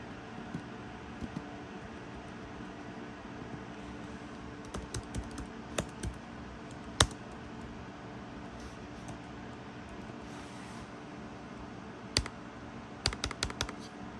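Keys tapped on a computer keyboard while a simple password is entered during fingerprint reader setup, with scattered clicks in short bursts over a quiet hum.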